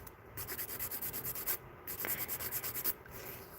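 Electric nail drill filing an acrylic nail into a moon shape, a quiet whirring grind with short rhythmic strokes broken by brief pauses, close and steady.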